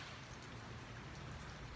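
Steady rain falling outdoors on a fishing trip, a dense, even patter that fills the short stretch at constant level with no voices.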